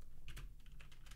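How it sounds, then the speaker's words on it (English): Keys clatter on a computer keyboard in a quick, close run of light clicks while a text config file is typed, over a steady low hum. No one speaks. "We're gonna type in"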